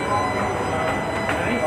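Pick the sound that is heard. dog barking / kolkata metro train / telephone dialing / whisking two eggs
kolkata metro train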